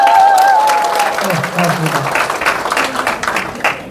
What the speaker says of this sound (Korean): 여러분 격려의 박수 한번 보내주세요